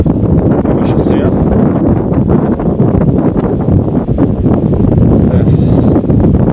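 Loud, steady wind buffeting the microphone while cycling downhill outdoors on a mild day, a continuous roar with no other clear sounds.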